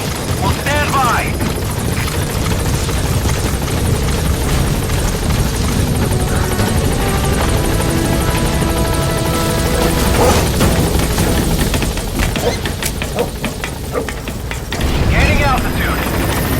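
Helicopter rotor noise from Metal Gear Solid V: The Phantom Pain, a dense steady loud chopping roar as the Pequod transport helicopter sets down at a landing zone, with game radio chatter and crashing effects mixed in.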